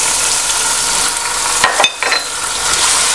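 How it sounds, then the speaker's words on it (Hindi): A spoon stirring tomatoes into chicken pilao frying in a pot, giving a steady loud sizzle with a few brief scraping strokes of the spoon near the middle. "इसको जो है थोड़ा सा चमचा चला लेंगे इसका। और इसके अंदर ये जो टमाटर है ये भी ऐड कर देंगे।"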